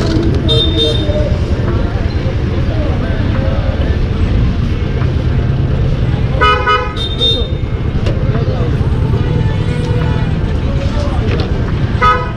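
Loud roadside traffic rumble at a petrol pump with several short vehicle horn toots, including a cluster of honks partway through, and voices talking underneath.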